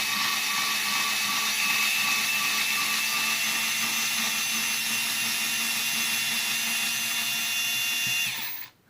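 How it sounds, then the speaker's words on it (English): An electric screwdriver whirs steadily for about eight seconds while undoing the original wheel screws on a Losi LMT RC monster truck, loud and close with no talk, then cuts off sharply at the end. "this is definitely going to be easier if you've got an electric screwdriver. So we need to undo all the original screws."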